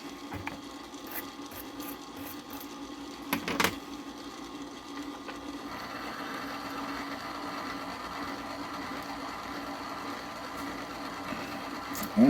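A flash hole deburring and uniforming tool works on rifle brass during primer pocket and flash hole prep, giving a quiet, continuous whirring buzz with a couple of brief clicks and knocks near the start, no talking.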